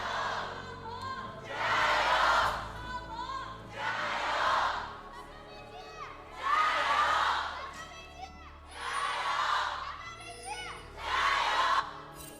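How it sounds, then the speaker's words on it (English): A crowd at a League of Legends esports match in a Shanghai arena chants and cheers in five rhythmic swelling waves, loud and reverberant, with brief lulls between each rise. "Crowd pretty active on a Tuesday."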